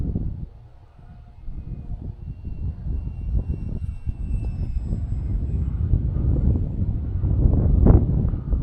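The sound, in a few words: wind blowing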